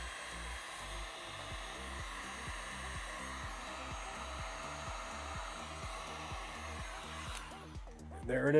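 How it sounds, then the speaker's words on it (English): A heat gun blows hot air over shrink tubing on a wire joint, a loud, steady, close whirring hum that holds for several seconds before a brief burst of handling noise at the end. "Get it nice and hot and just kind of squeeze the shrink tube to follow the contours."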